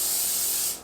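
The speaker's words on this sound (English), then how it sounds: "with cooking spray so that the batter doesn't stick to it" A close, loud burst of cooking spray hits a 2/3 cup measuring cup, a steady aerosol hiss that tapers off at the end.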